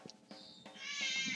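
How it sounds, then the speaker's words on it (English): A single cat meows, a short rising call that swells and holds near the end, close and fairly soft over quiet room tone. "Oh, cat."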